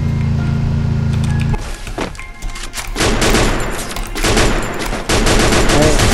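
Rapid gunfire from a battle royale tournament match in a shooter video game, loud and dense bursts of shots running almost continuously after a low engine-like hum at the start.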